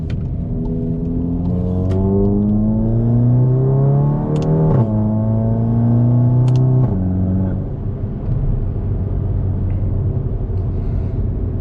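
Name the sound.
VW/Audi DSG car accelerating through the gears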